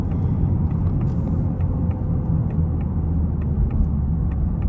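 A 2024 Ford Mustang EcoBoost with a 2.3-litre turbo four-cylinder rumbles at a steady, low idle, a continuous deep engine drone heard up close with no talking.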